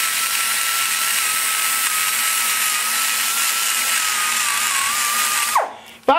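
A thin burr on a rotary grinder cleans up the port of a Chevy 350 TBI cylinder head. It gives a steady, close, high-pitched whine that holds for several seconds, then winds down and stops.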